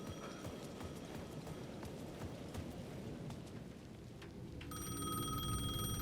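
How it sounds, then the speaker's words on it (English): A payphone rings in the video game Alan Wake 2, its bright electronic bell starting in the last second or so after a stretch of footsteps and ambient noise. "The payphone at the edge of the plaza was ringing again."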